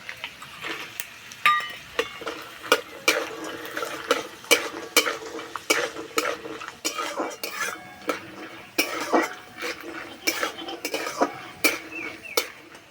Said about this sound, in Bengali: এই বাদামে দেবো কাঠবাদাম, কাজু বাদাম আর চারমগজ।